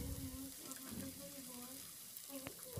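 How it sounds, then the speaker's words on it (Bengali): A paste of onion, tomato, ginger, garlic and green chilli fries in a pan while being stirred, giving a steady low sizzle with scraping stirs throughout, and a faint voice in the background. "এখন আদা রসুন কাঁচা লঙ্কা পেঁয়াজ টমেটো একসাথে ভালো করে নাড়াচাড়া করে নিচ্ছি। নাড়াচাড়া করে এটাকে সুন্দর করে একটু ভেজে নেব।"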